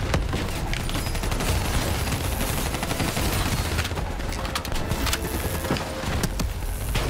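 Sustained, dense machine gun fire and battle noise from the Call of Duty Black Ops 3 campaign on PS4, loud and continuous with rapid bursts layered over rumbling combat throughout.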